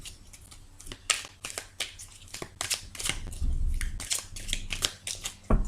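Tarot cards are shuffled by hand at close range, making quick, irregular papery slaps and riffles that build into a denser flurry near the end.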